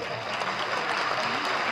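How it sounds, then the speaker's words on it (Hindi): Audience at a Hyderabad mushaira breaks into brief, steady applause, a dense even patter of many hands heard at moderate distance with no break. "इस पे तो कम से कम जोरदार तालियां बजाइए।"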